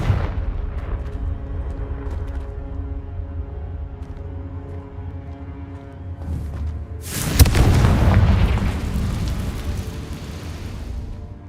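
A Confringo blasting curse explodes in Hogwarts Legacy: a sudden loud, broadband blast partway through that rumbles on for a few seconds over a steady low hum of game ambience and music.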